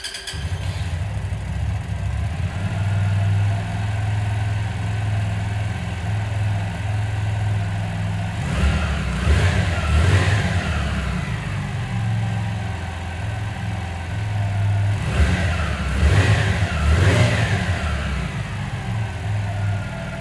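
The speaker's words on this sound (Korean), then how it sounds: "엔진 사운드도 들어보겠습니다." A 2025 Hyosung Aquila 125 motorcycle engine idles with a steady low rumble, then revs up twice in rising bursts before settling back to idle, close by.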